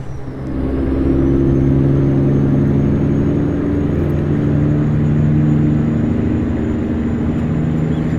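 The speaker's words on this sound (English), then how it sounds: "Love the sound of this engine." In American Truck Simulator, the engine of a Peterbilt 389 rises from a brief lull into a heavy, sustained low rumble, loud and near throughout, with no voices over it.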